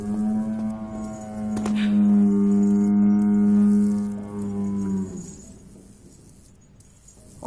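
A cow lets out one long, deep, drawn-out moo lasting several seconds, loud and fairly close, before trailing off into quiet.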